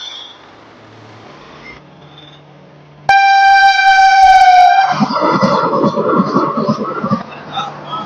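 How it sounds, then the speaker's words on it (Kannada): A train approaching a railway level crossing, with a quiet wait broken by a loud sustained horn blast, then rumbling train noise and further horn tones, close and loud. "ಬರ್ತಿದೆ ಟ್ರೈನ್ ಬರ್ತಿದೆ"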